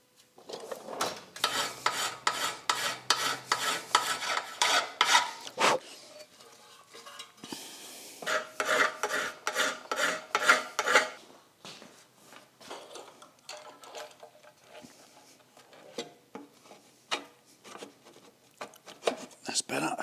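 Hand filing of a Hayabusa streetfighter motorcycle part's edges, with bursts of rhythmic scraping strokes that start and stop, close and moderately loud.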